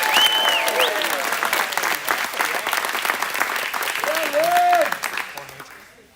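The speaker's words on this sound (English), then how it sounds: "Let's give a round of applause for Sterling Horizon" Arena crowd at a men's NCAA gymnastics meet applauds a graduating senior, loud sustained clapping with cheering voices and whoops that fades out near the end.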